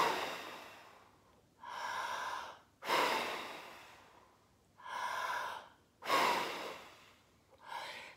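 Three big breaths blown out during a family yoga game, each a deep breathy exhale with an audible intake in between, close and fairly soft, with no talking.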